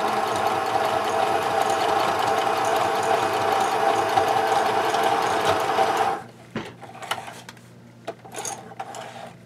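A sewing machine runs a steady, continuous stitching line for about six seconds, backstitching at the start and end of a seam on a travel case belly band, then stops, leaving faint handling clicks.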